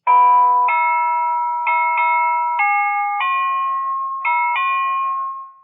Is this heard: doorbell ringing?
yes